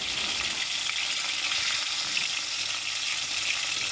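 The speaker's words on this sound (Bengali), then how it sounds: "আর ভাজার সময় মাছগুলোকে বেশি নাড়াচাড়াও করা যাবে না" Tilapia pieces fry in hot oil for a village-style sour curry, a steady bright sizzle that stays even and close with no talking.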